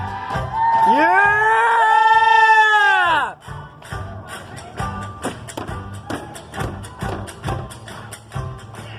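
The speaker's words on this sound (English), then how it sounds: "Play the washboard Pigpen" A washboard played by a performer called Pigpen with a hillbilly band at Knott's Berry Farm, a rapid run of sharp scraping taps following a loud whooping crowd, quick and steady over background cheering.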